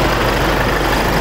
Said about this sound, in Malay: Dia punya bunyi bagi aku, walaupun dia enjin diesel, seriously guys, tak bising.